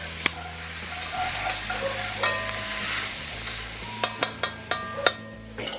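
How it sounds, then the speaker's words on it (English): Vegetables cooking down in a roux for gumbo, a constant close sizzle and fry with occasional spoon scrapes and sharp clicks against the pot, near and fairly loud, with no talking. "We're going to cook our veggies down a little bit."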